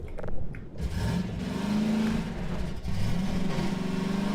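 A car engine revs in Half-Life 2, a loud, close motor drone that rises and holds as the vehicle accelerates, heard alone without talk.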